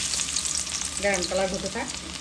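Panch phoron and chopped garlic sizzle in hot oil for a dal tempering, a bright steady hiss with a short spoken phrase over it.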